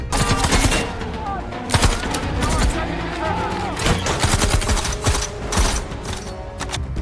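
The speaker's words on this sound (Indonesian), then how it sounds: "Baku tembak pun terjadi." A gunfight from the action film Tomb Raider: loud, dense bursts of rapid gunfire and sharp single shots crackle on and off across the whole stretch, mixed with clattering mechanical action noise.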